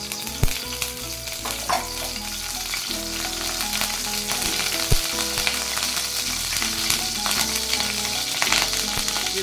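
Oil sizzles in a pan while a capsicum curry is cooked, a loud, steady frying hiss with scattered pops and occasional stirring knocks, no voices.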